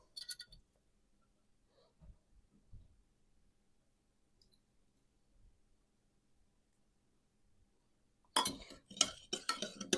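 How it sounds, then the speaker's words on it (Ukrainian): Sparse soft clinks and taps through quiet stretches, then a burst of quick metallic scraping and clicking of a spoon against a bowl near the end as a spring salad is stirred. "Ретельно перемішую та додаю до салату."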